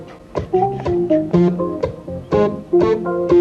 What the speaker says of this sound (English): Check out lightning hands on the keyboard here.